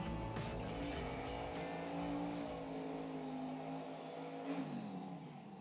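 Drag racing car in the Mama machine at the Lights Out 17 event, South Georgia Motorsports Park, roaring steadily at high revs for several seconds with a rising engine pitch and a brief tire squeal, loud and continuous.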